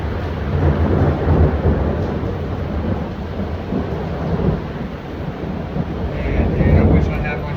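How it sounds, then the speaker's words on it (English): Violent thunderstorm: deep, rolling thunder rumbles continuously, with gusting wind buffeting the microphone and rain noise, loud and sustained throughout. "That's a violent storm over."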